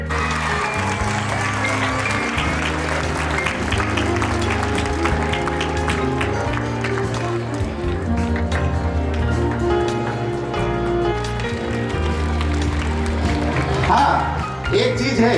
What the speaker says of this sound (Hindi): खड़े होकर एक बार लोहार सर का जोरदार तालियों से स्वागत कीजिए